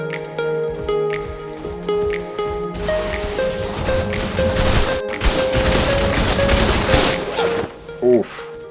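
Gunfire bursts in the middle of a raid in Ark on the Fjordur map, a dense, loud stretch of rapid shots layered over sustained game music tones, ending with a brief sharp hit.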